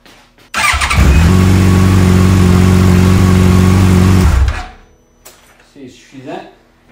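Yamaha FJR1300 motorcycle engine started and idling after an oil change, a loud close steady low hum with even tonal layers for about four seconds, then cut off, followed by a few soft clanks and brief quiet speech.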